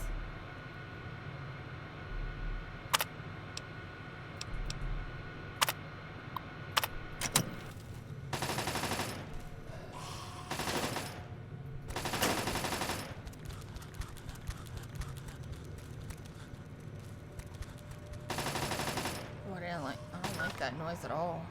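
Automated turret gunfire in Fallout 3: rapid bursts of machine-gun fire come in several sustained volleys, with a few sharp single shots between them over a low ambient background.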